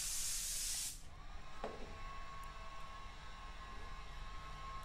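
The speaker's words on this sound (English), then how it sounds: "I'm spraying out the panel in metallic white course" Spray gun applying AutoAir Colors 4300 metallic white coarse paint over a Sailor White base coat on a panel, a brief loud airy hiss lasting about a second before cutting off to a quiet background hum.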